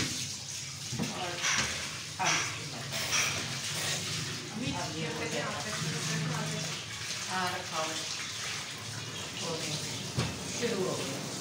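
A washing machine loaded with clothes starts up and fills with water, a steady rushing gush running through the whole stretch, with a voice talking over it at times.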